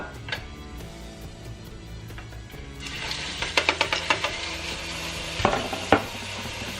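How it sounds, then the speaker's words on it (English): A beef patty sizzles steadily in a hot pan, with a few brief utensil clinks and scrapes toward the end. "And there it goes, sizzling away."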